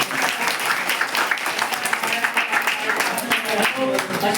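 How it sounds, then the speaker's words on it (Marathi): A crowd at a school birthday celebration claps steadily for several seconds, dense and close, with some voices mixed in under the clapping. "टाळ्या वाजवायची आनंद आहे."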